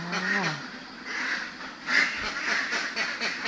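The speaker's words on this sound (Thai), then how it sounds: "ทุกเช้าของคนเลี้ยงเป็ด ก็จะประมาณนี้นะคะ" Ducks quack in short nasal bursts on a duck farm in the morning, several calls overlapping at moderate distance with a soft outdoor background.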